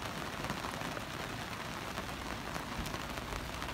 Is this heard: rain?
yes